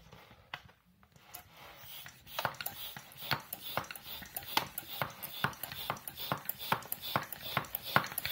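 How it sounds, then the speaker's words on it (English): A plastic Torp keg bottle expands as air is pumped into it, giving a quick run of sharp creaking clicks and pops that grows busier and louder over several seconds. The sound is close and fairly quiet, with no talking over it. "as I pump you'll hear it start to expand inside the bottle"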